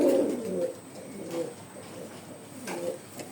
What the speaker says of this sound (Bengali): এই কবুতরটা